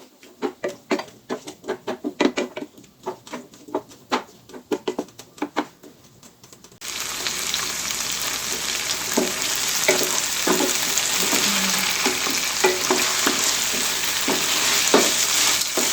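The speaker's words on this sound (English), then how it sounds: "We're going to let this saute down. Get us a nice cook on it. Let the vegetables soften up." Vegetables and tomatoes sautéing in a pan for a vegan Jamaican oxtail stew: sharp, scattered taps of a utensil stirring come first, then a loud, continuous hiss of sizzling fills the rest.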